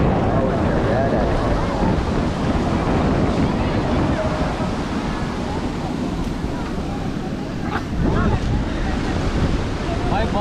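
Sea waves surging and washing onto the sand at Puri beach in Odisha, a continuous loud roar of surf with wind buffeting the microphone, while people talk nearby.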